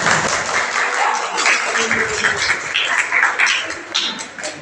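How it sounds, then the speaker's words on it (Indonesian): Applause from a classroom audience of students for a group that has just finished presenting during an Islamic religious education teacher-training session at UIN Malang; dense, steady clapping from several people fills the whole stretch at moderate loudness. "Tepuk tangan buat teman-teman."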